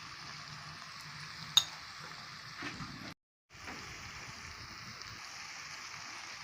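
Paneer pieces fry in a pan with a steady, soft hiss of oil, one sharp click near the start and a brief gap midway, close and fairly quiet.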